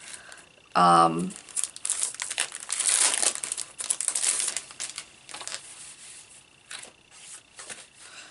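Paper for a cutout craft is handled and crinkled up close, with a sharp burst of crumpling followed by repeated rustling and scrunching that rise and fade over several seconds.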